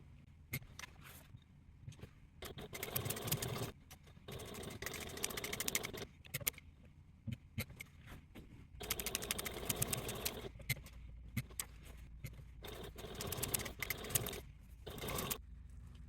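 A hand-cranked sewing machine stitches a handbag in several bursts of steady mechanical whirring, with short pauses and slower cranked stretches between them, close and moderately loud.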